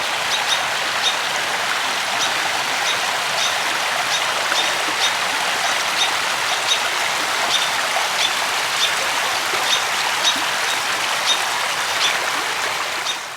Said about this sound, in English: listen to the water and the birds chirping